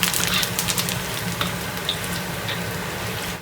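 A large batch of Sichuan peppercorns frying in plenty of oil for a crayfish dish, giving a loud, close, continuous sizzle with crackling spits scattered through it.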